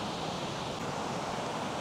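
The Smith River flowing beside a redwood forest campsite, a steady broadband rush of water mixed with wind noise, continuous and fairly close.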